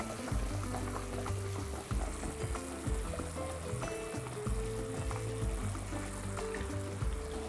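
Two ladles of beef broth going into a hot frying pan for a tenderloin and liver sauce-soup, a continuous close sizzle and bubbling with faint trickling and stirring, no talk.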